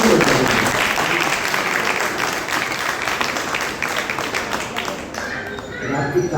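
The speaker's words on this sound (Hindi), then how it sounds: "इसके लिए जोरदार ताली पर फिर से बजाएं।" A crowd at a religious gathering in a Ratlam temple breaks into loud, sustained applause, dense clapping that fades slightly toward the end.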